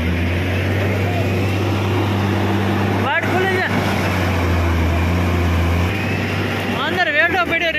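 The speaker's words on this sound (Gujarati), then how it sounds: "આ અમારા નાના ભાઈ ટ્રેક્ટર છે" A tractor engine idles with a steady low drone and a constant hum, close by and loud, while a voice speaks briefly over it.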